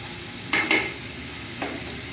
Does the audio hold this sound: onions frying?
yes